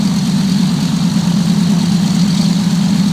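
Twin radial engines of a DC-3 taxiing in a flight simulator: a steady, loud, low droning hum with an even throb and no change in pitch, heard alone with no voices.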